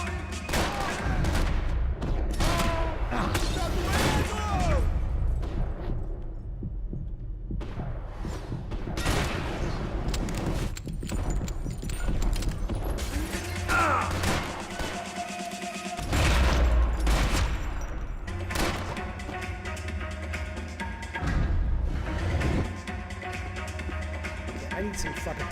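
Repeated bursts of gunfire in the video game Max Payne, loud and close, coming in clusters with brief lulls while someone talks over the shooting.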